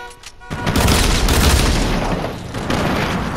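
A Fortnite minigun spins up and fires a dense, continuous roaring barrage, loud and close, sustained for about three seconds after a brief quieter start.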